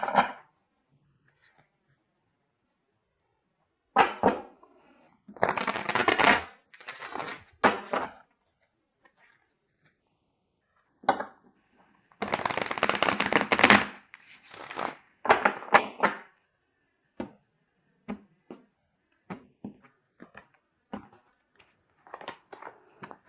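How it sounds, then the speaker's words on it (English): Tarot cards from an Osho Zen deck are shuffled in several short riffling bursts with silent gaps, followed by scattered soft taps and card handling, close and clear with no talk. "I'm going to get a card here from my Osho Zen deck."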